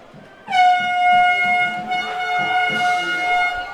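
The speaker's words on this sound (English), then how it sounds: "I haven't heard an air horn in 20 years." A loud air horn blasts at a high school football game, a long sustained tone, with a second overlapping honk midway and a brief crowd murmur underneath.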